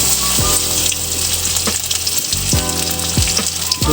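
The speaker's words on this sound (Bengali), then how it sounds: "একটু শুকনো মরিচগুলো হালকাভাবে ভেজে নেব। এরপর আমরা রসুন দিয়ে নেব" Dried chilies and garlic fry in hot oil in a pan, giving a loud, dense, continuous sizzle up close, with a few stirring scrapes and utensil knocks breaking through.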